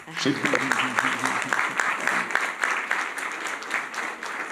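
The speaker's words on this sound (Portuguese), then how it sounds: "Uma salva de palmas para o Samuel." Audience at a school talk applauding a secondary student before his question: steady, mid-level clapping from a room of people lasting several seconds, with a voice speaking briefly under it at the start.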